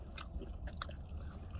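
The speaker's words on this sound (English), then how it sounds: "I really be having to chew my food so you can hear me so I can get the real taste" Someone chews food close to the microphone at a pizza restaurant, with soft crunches and bites over a steady room murmur, brief and without talking.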